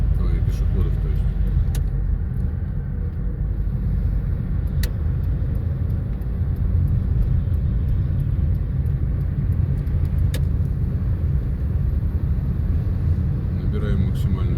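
A car's engine rumbling steadily from inside the cabin during a driving lesson, a continuous low drone as it drives and gathers speed, with occasional faint clicks and no clear accelerating surge.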